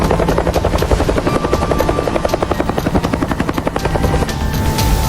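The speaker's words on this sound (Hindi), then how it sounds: "ये हेलीकॉप्टर कहाँ से आ गया।" A helicopter thunders close overhead, its rotor blades chopping in a fast, steady pulse with a whining engine tone, loud and continuous throughout.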